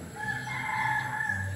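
A seven-month-old White Kelso over Boston Roundhead cross rooster crows in a backyard, a single sustained call held at steady volume close to the microphone.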